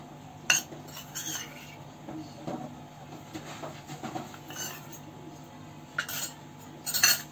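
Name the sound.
mixing gram flour and turmeric masala in a bowl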